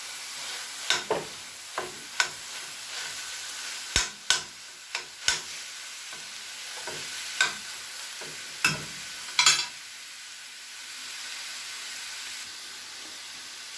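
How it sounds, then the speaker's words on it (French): Minced meat fries in a pan while a utensil stirs it, giving sharp scrapes and knocks at irregular intervals over a faint sizzle; the sizzle dies down to a quiet hiss toward the end, and nobody talks. "Après quelques minutes, je rajoute la viande hachée."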